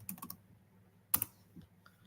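Several quick keystrokes on a computer keyboard during a livestream search: a short burst of typing, a pause, then a sharper cluster of taps and a few scattered keys, fairly faint and with no voices.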